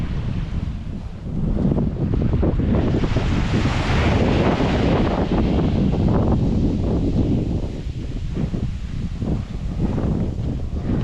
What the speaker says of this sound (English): But it's quite windy here